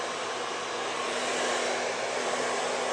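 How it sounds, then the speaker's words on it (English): A blow dryer set to low heat and high air blows steadily up close, a strong even whoosh with a faint motor whine and no talking. "I'm going to turn the blow dryer onto low heat and high air"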